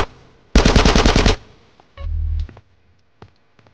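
Automatic gunfire in GTA San Andreas: a loud, rapid burst of shots lasting under a second, followed by a lower rumbling blast and a few faint scattered clicks.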